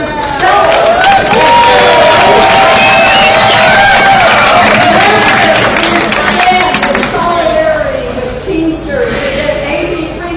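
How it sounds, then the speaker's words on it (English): A large crowd at a Teamsters rally in Sacramento applauds and cheers loudly for union president Sean O'Brien, with sustained clapping, whoops and shouts forming a dense roar, and voices calling out through it. "Round of applause to International Teamsters President Sean O'Brien"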